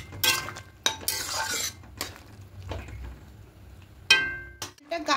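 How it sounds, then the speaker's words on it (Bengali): Vegetables stirred in a pan with ginger juice and a little sugar: close, intermittent clinks and scrapes of a utensil against the pan, with a few louder knocks. "দিয়ে খুব ভালো করে মিশিয়ে নেব।"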